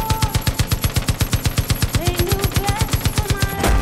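Vehicle-mounted machine guns in the shooter Far Cry 5 fire in one long, loud, evenly spaced burst of rapid shots, close and continuous, with faint engine and game sounds underneath.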